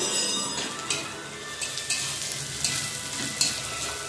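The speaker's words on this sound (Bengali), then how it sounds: "রসুন একটু পেঁয়াজের সঙ্গে হালকা ভেজে নেব" Garlic and onion fry in a pan with a constant, close sizzle, broken by the scrape and light clinks of a spoon stirring at irregular intervals.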